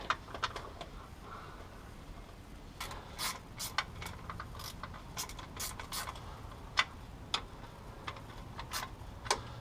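Bolts on a transmission pan are run down with a ratcheting wrench, giving faint scattered clicks and short bursts of ratchet ticking over a quiet background, close up and without talk.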